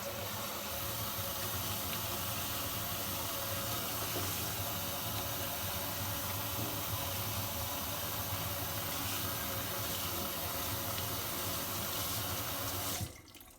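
A baseball cap soaking in a filled sink of running water gives a steady, loud rush of flowing water with hiss that holds for over ten seconds, then stops abruptly near the end.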